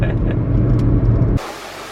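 Cheap used Honda Civic engine pulling in first gear, a loud low rumble that cuts off abruptly partway through, leaving quiet hiss.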